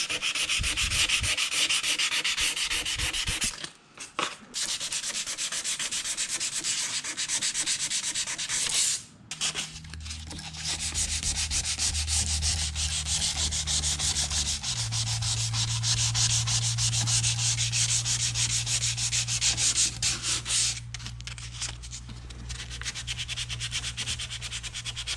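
A maple board is sanded to remove small marks, with steady continuous rubbing and scratching close by, briefly pausing a couple of times while a low tonal hum enters partway through.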